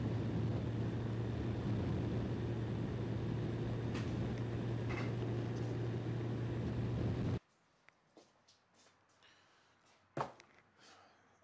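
A 1984 BMW K100 motorcycle on a test drive, engine droning steadily and close for about seven seconds, then cutting off abruptly and leaving a quiet scene with a few faint clicks and knocks.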